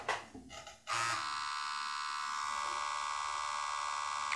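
Defenderr Fenix S wireless permanent makeup and tattoo machine running with a 3.5 mm needle stroke, a steady high-pitched electric buzz that starts after a few faint clicks and holds evenly, close and alone.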